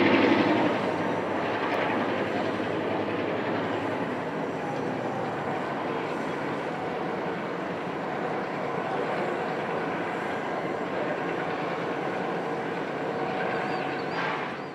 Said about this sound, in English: viewers can easily see the diesels being serviced and moved around